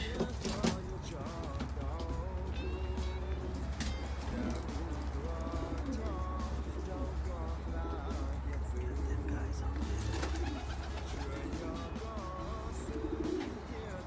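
Pigeons coo repeatedly in low, rolling calls, with other birds chirping, distant traffic and people talking nearby.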